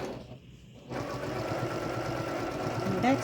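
A sewing machine runs steadily while back stitching on a mini-charm precut zipper bag, a continuous close motor hum after a brief quiet start.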